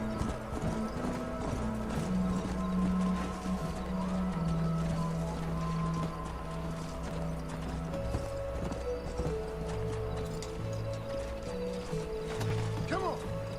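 Horses clip-clop steadily on the ground in the Red Dead Redemption video game, with rhythmic hoofbeats under a droning musical score, mechanical rattles and a brief neigh near the end.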